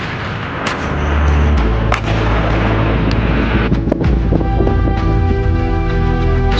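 Vehicle-mounted howitzers firing rapidly in an artillery demonstration, heavy booming reports one after another with rumbling echoes and wind buffeting, loud and close.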